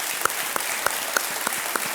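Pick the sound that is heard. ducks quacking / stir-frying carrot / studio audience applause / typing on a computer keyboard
studio audience applause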